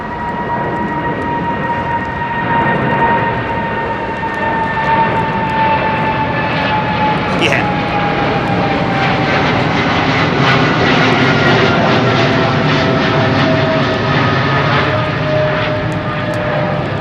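Jet airliner engines at London Heathrow Airport under a low cloud base roar loud and continuous, a sustained deep rumble with a slowly shifting whine, alone without voices.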